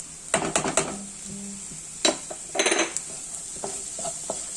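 Onions sauté in a pan for clam thoran with a light steady sizzle, broken by several bursts of spatula scraping and metallic clinks against the pan, close by.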